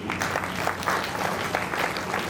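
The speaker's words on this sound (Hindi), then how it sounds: "तालियों की गड़गड़ाहट नहीं कम होनी चाहिए" An audience at a state-level community talent award ceremony keeps up a continuous, moderately loud applause throughout, without a break and with no speech on top.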